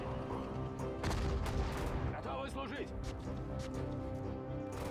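Gunfire from a World War II Soviet-front battle in the strategy game Sudden Strike 4, Battle of Moscow 1941, with a few sharp broadband shots amid a dense rumbling battle bed and someone talking over it.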